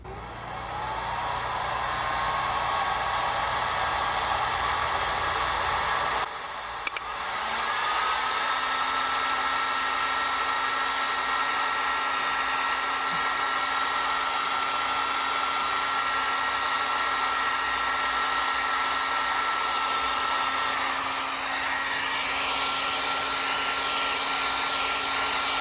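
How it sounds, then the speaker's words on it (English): A heat gun blows steadily for a long stretch while heating a heat-shrink wire connector, a constant close whooshing hum with a faint whine and a brief dip partway through. "Now I'm going to be using the heat gun."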